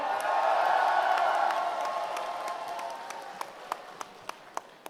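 Crowd applause at a political forum launch ceremony swells briefly and then fades, leaving a few isolated, sharp claps at the end.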